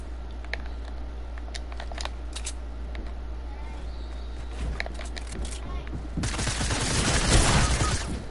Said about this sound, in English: Where did that shotgun shot come from?